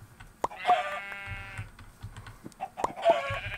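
Chickens clucking in Minecraft with the Dartcraft mod, a couple of short bursts of squawky game-animal calls separated by quieter gaps, fairly near and with no talking over them.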